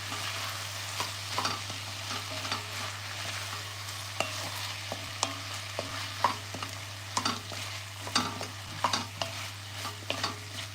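Garlic and butternut squash sauté in a pan, a steady broadband sizzle with scattered stirring scrapes and clicks throughout, plus a constant low hum underneath; close and moderately quiet.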